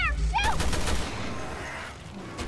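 Gunfire aimed at a monster in Resident Evil Revelations 2, co-op survival horror game: a burst of loud, sharp rapid shots at the start that trails off into a rumbling tail, with brief high chirping effects.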